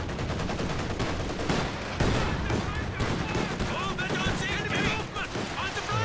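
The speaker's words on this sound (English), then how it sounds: "That was a very good Stuka barrage." A Stuka rocket artillery barrage in the World War II strategy game Company of Heroes 2, with a rapid series of explosive booms and crackling impacts under a commentator's voice.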